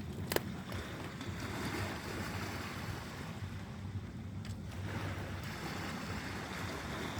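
Sea surf washing ashore at night in Cyprus, with palm trees and a ship nearby, a steady broadband roar of waves mixed with wind buffeting the microphone, continuous and fairly close, with a brief sharp knock near the start.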